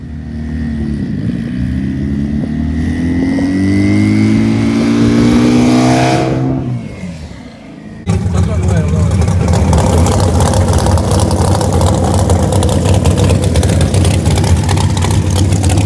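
A 629 hp Honda Integra engine revving close by while being parked, rising and falling rev sweeps that then drop to a rough, loud, steady idle.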